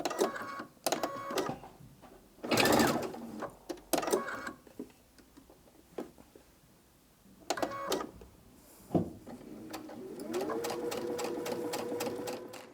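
A sewing machine stitches the second seam of a Tilda Songbird Mosaic Butterflies quilt block, running in close rapid mechanical bursts separated by pauses, with a longer steady whir near the end.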